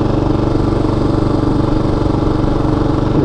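A 2016 Kawasaki KLR 650 single-cylinder motorcycle engine fitted with a single carburetor runs steadily at a low, throbbing idle, loud and close with a constant rumbling pulse throughout.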